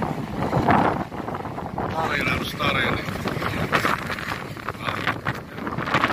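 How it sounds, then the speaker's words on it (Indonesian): Strong wind buffets the microphone at Merak harbour, a steady broadband roar with rougher gusts throughout, while someone talks over it. "Di sore hari ini suasana Pelabuhan Merak, cuacanya angin besar, gelombang kecil-kecil"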